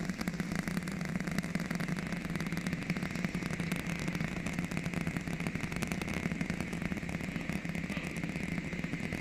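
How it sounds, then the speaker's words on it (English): SpaceX Starship Super Heavy lifting off from Starbase, Texas, with 32 Raptor engines firing: a steady, dense, distant roar that rumbles on without a break and no voices over it. "The rumbles are still building here in the Raptor's nest."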